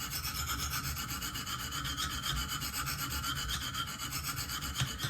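Benchmade Steep Country knife blade being sharpened on a KME guided sharpening stone, a close, steady rasping rub of repeated even strokes of steel across stone, continuous and fairly quiet with no talk.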